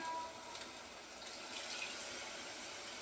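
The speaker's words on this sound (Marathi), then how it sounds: "मिक्सरच्या भांड्यात थोडंसं पाणी घातलंय" A little water pours into a mixer grinder jar in a home kitchen during cooking with soaked chickpeas, a soft, steady trickle close by, alone and without voices.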